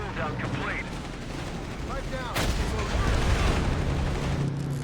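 Artillery fire in Company of Heroes 3, heavy booms and blasts with rumbling explosions building over the battle, a sharp impact near the middle, with speech in the background.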